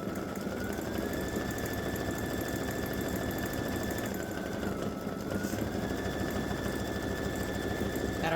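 An embroidery machine stitching letters onto a patch gives a steady, continuous mechanical whir with a faint tonal hum that shifts pitch briefly, running alone at a constant level without talk.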